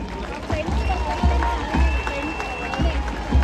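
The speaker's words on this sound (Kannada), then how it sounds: "ಯಾಕೋ ಏನೋ ಚಪ್ಪಾಳೆಯ ಸದ್ದು ಕೇಳಿಸ್ತಾ ಇದೆ" Crowd applause at the Mysore torch light parade, a broad steady wash of clapping and cheering that runs throughout, with dull low thumps recurring about every half second as a police contingent passes.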